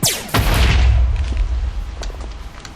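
A single heavy bomb explosion in Minecraft bursts out and rolls into a deep, rumbling decay lasting a couple of seconds, with a few faint clicks trailing behind.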